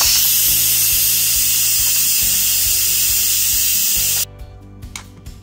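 An Instant Pot cooking fish curry vents its pressure in a loud, steady, close rush of steam that runs for about four seconds, then stops abruptly, leaving faint rattling and clicks.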